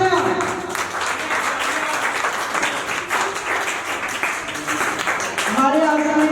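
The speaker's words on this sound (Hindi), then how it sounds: "जोरदार तालियां" Loud clapping from a college crowd at a Teacher's Day celebration rolls on steadily, mixed with shouts and voices over the applause.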